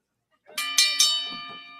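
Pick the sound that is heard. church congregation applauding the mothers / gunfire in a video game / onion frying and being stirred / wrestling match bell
wrestling match bell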